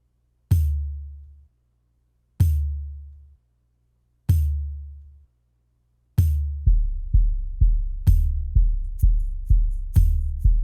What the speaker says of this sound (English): So I tuned this pandeiro to the track, and I use it as the kind of snare or backbeat sound